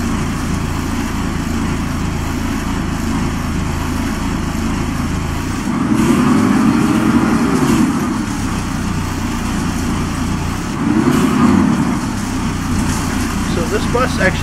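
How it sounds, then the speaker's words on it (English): A Karosa S11 bus engine in the OMSI 2 driving simulator, a low, steady drone running throughout, swelling louder twice as it revs, with a humming mechanical tone. "This bus actually has a collection of sounds. It plays a series of wave files depending on what you do."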